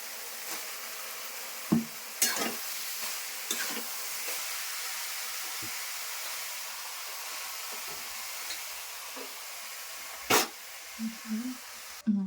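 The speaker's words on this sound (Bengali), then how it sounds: "আমি এখন বাঁধাকপিগুলো দিয়ে দিচ্ছি" Cabbage sizzles and frying sounds crackle in a pan of spiced Bengali fish-head cabbage curry, with a few sharp clinks and scrapes of stirring at scattered moments over a steady hiss.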